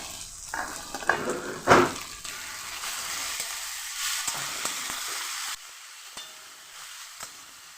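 Chilli paste hits a hot frying pan alongside ginger paste for ghugni, bursting into a loud sizzle that settles into steady frying crackle with stirring, then drops to a quieter simmer near the end.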